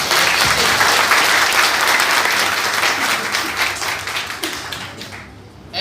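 Audience applause for women volunteers at a tree-planting drive, dense sustained clapping from a crowd that fills the whole stretch and thins slightly toward the end.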